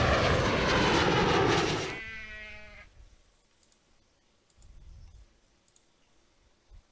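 In the video game OpenTTD, a newly available airplane's engine roars loudly for about two seconds, then drops to a fading whining tone and near silence with a few faint clicks.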